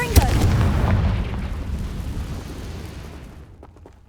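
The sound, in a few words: Confringo fire spell explosion, video game Hogwarts Legacy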